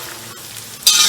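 Edible gum (gond) frying in a pan for panjiri gives a steady, close sizzle that suddenly swells into a louder, brighter crackle near the end, with no voices.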